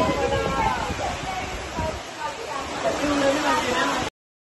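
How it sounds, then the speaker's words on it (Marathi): Heavy rain pours down steadily outdoors during a hilltop outing, a dense continuous hiss lasting throughout with some voices faintly beneath it, then cutting off abruptly. "पाऊस खूप जोरात आलेला आहे"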